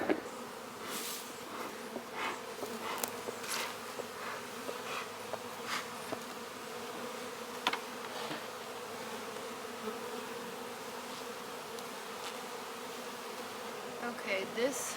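Honeybees buzz steadily around an open yellow hive in a garden, a continuous droning hum with individual bees passing close now and then, no talking over it.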